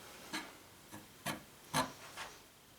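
Glued wooden pieces of a wind spinner are stacked and aligned by hand, making a handful of short, soft wooden rubs and taps spaced irregularly over a quiet background.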